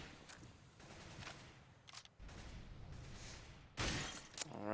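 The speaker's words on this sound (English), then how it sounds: "window broken" Window glass shatters in a Counter-Strike match amid bursts of gunfire. The loud, bright crash comes near the end after quieter shots and clicks.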